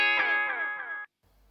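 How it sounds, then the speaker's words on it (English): An analog Delay Llama MK3 delay pedal set to true bypass sounds a guitar note whose echo trails repeat for about a second, then cut off abruptly into near silence when the pedal is switched off. "when you turn the pedal off, the trails will die, like this."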